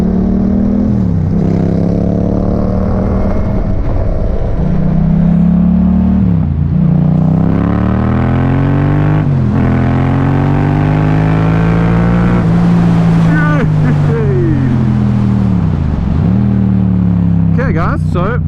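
A 2017 Yamaha MT07 motorcycle with a full Scorpion exhaust pulls hard and loud through several gears. Its engine note climbs in pitch, drops at each shift and climbs again, with a crackle near the end, and heavy wind noise sits underneath.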